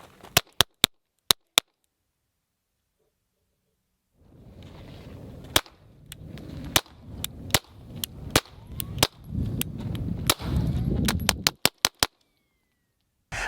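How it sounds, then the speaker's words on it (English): Suppressed shots from a Springfield Armory Hellcat RDP 3.8-inch pistol at an outdoor range: sharp cracks and muffled pops, first a quick cluster of five, then after a pause a steady string of about a dozen under background rumble and noise. "I was pleasantly surprised at how well this thing shot suppressed"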